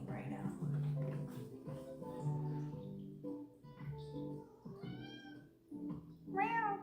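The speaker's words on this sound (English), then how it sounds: "He's meowing over there." A cat meows in a drawn-out rising call, fairly clear, as someone talks and music plays softly throughout.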